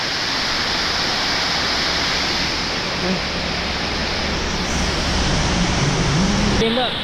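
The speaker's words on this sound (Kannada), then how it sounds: "ಸೊ ಶಿರಡಿ ಘಾಟ್ ಜೊತೆ ಇಲ್ಲೊಂದು ಫಾಲ್ಸ್ ಇದೆ ನೋಡಿ, ಎಷ್ಟು ಚಂದ ಇದೆ ಅಲ್ವಾ." A waterfall at Shiradi Ghat during the monsoon gives a steady, broad rushing hiss that stays constant throughout, with a faint brief voice near the end.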